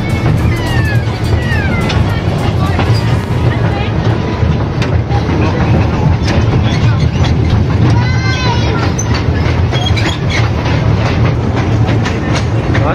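Moving train ride at a rail museum: a steady loud rumble with rhythmic clickety-clack and occasional metallic squeals, heard from on board, with people talking throughout.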